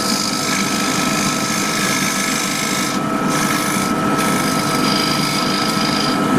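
A wood lathe turns the base of an Eaton table lamp while a gouge squares off the wood, making a continuous, loud, rasping scrape that holds steady throughout with slight variations.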